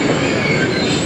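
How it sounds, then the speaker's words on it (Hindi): A train on the Narowal branch line between Lahore and Narowal comes to a stop, producing a loud, steady rumble of wheels on rails with a high squeal running throughout. "काफ़ी आगे आके रुकी है ट्रेन।"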